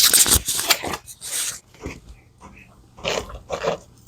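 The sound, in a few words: dog eating a bite of Mexican food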